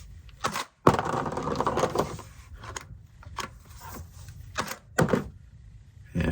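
An electric semi-auto Nerf Beretta shotgun cycles with a run of sharp mechanical clacks and whirring bursts, then locks back empty, close and loud with no speech.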